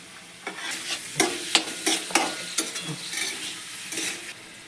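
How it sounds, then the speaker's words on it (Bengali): Vegetables are stir-fried in a pan with fried soybeans and chopped tomatoes added, a close sizzle broken by a series of sharp, irregular spatula scrapes and clatters against the pan, with no talk. "এরপর আমি এখানে দিয়ে দিচ্ছি ভেজে রাখা সয়াবিনগুলো আর টমেটো কুচিগুলো।"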